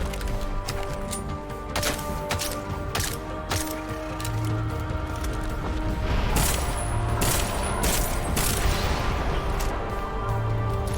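Gunfire against robots in Deus Ex: Mankind Divided, a dense run of rapid shots and metallic clanks over rumbling game effects, with heavy booming impacts near the end.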